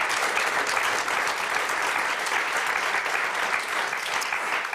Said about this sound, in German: gerne den Applaus natürlich